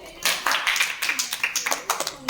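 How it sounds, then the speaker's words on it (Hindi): A group of students in a classroom claps together, a quick, uneven run of bright hand claps close by, starting softly and then continuing steadily to the end. "आपके लिए इनके ताली बजाओ।"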